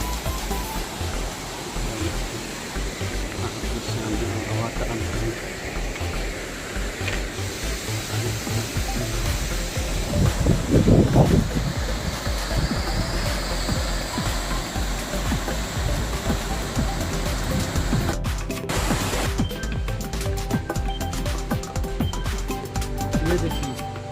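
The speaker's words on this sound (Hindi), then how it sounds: "झरना है।" Aurwa Tand waterfall roars steadily and continuously, surging briefly louder near the middle, with some handling noise toward the end.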